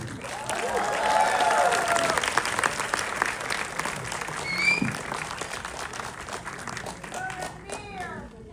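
An audience applauding the arrival of actor Ranbir Kapoor and director Nitesh Tiwari at a Ramayana film Q&A, loud dense clapping that swells early then thins, with cheers and a voice over it.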